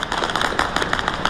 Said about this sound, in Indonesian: Rentetan senjata mencoba mencegat serangan drone Iran yang menyasar pangkalan Amerika Serikat di Irak, namun gagal hingga menyebabkan ledakan besar.